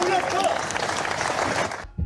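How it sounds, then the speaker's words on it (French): Police officers gathered outside the IGPN offices applaud their released colleagues, giving a dense, sustained patter of clapping with voices mixed in before it cuts off abruptly. "Les policiers sont sortis de garde à vue ce matin sous les applaudissements de leurs collègues venus les soutenir devant les bureaux de l'IGPN."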